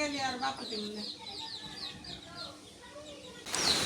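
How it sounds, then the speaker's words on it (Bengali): Backyard chickens cluck in short, quiet bursts at moderate distance, with a rain-soaked background and a sudden burst of hiss at the very end. "এ মুরগি এখন উঠবো"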